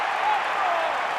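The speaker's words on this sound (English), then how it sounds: "the crowd is really loving this start from the Melbourne Storm" Stadium crowd at a 2001 rugby league match between Melbourne Storm and Brisbane Broncos cheering in a steady, broad roar, with a commentator talking over it.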